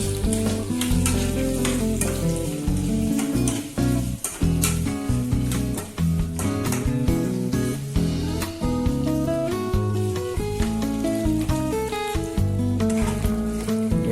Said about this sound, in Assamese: দেখিছে মই ধুনীয়াকৈ লৰাই আছোঁ